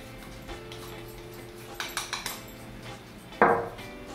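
Flour tipped into a mixing bowl for brownie pudding, heard as a few soft clinks and taps from a spoon or utensil against the bowl, followed by a sharper, louder knock near the end; no talking.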